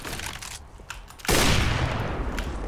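Gunfire in a video game starts as sparse distant pops, then a sudden loud, dense burst of rapid shots and booms takes over and carries on to the end.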